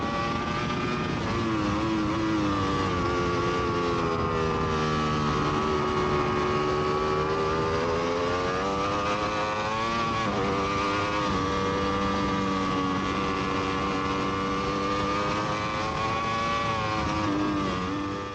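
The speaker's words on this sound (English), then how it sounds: "this is me, testing my British Superbike in 2017 before the season started" A British Superbike racing motorcycle laps a track in 2017 preseason testing, its engine a loud, continuous high-pitched howl that rises and falls through the gears, heard up close from on board.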